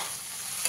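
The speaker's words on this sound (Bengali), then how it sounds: "3 মিনিট সবজিগুলো ভেজে নিয়েছি" Vegetables frying in a pan while being stirred, a steady close sizzle with a faint scrape of the spoon near the end of a brief stretch with no talk.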